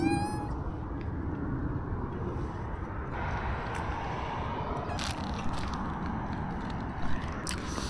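A stray cat gives a short meow near the start, then falls quiet under steady low background noise with faint scraping.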